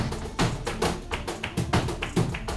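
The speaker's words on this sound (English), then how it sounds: "It sounds like feet tapping on the floor, like passion." Rapid, irregular tapping and stamping of flamenco dancers' shoes on a hard floor, close and energetic, in quick percussive bursts.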